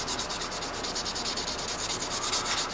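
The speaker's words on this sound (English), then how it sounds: "we take some 1200 grit sandpaper and go over the fret and get any more scratches out that you can" A guitar fret on a Strat neck being rubbed with 1200 grit sandpaper, a close, even rasping in quick back-and-forth strokes that repeat at a steady pace throughout.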